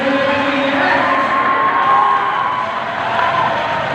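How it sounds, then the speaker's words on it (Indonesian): A crowd at an agricultural exhibition claps and cheers loudly and steadily, with shouts and whoops mixed into the sustained applause. "Boleh dong berikan tepuk tangan yang meriah"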